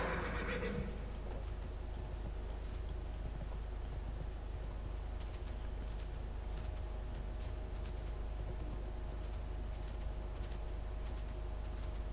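A horse mount in World of Warcraft whinnies loudly at the start, then its galloping hoofbeats run on steadily over a constant game background hum.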